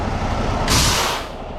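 Truck air brakes hiss in a sharp release of pressurized air during a trailer tug test with a heavy load, a steady burst of rushing air lasting under a second over a low idling rumble.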